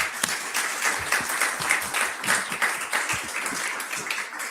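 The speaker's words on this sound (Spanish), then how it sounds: "os pido un fuerte aplauso para ella" Lively audience applause at a talk on ecosocialism, with many distinct claps fluttering in an uneven rhythm, close and fairly loud, and no speech over it.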